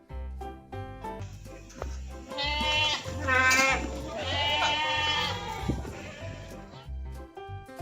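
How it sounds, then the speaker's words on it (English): A farm goat bleats in a series of wavering, nasal cries over a steady background of simple children's music with a thumping beat. "Goat."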